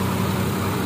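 A Suzuki Scrum engine idles after its carburetor has been tuned, a steady, even low hum holding without a break and with no voices.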